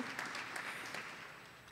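Audience applause at a university graduation celebration, a dense wash of clapping that starts fairly strong and gradually thins and fades, heard alone without talk.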